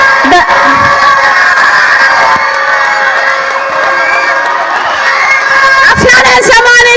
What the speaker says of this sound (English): Everybody cheer up for the yellow.